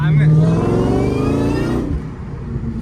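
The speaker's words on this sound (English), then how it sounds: "the boreless stingers have this characteristic burble with like little backfires almost" A supercharged 2003 Ford Mustang Terminator Cobra with boreless exhaust revs at part throttle, a loud close burbling engine roar with supercharger whine that rises and then drops away, with some talk over it.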